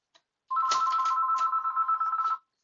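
An incoming call sets a phone ringing: one warbling electronic ringtone burst of about two seconds, clear and close, with no talk over it.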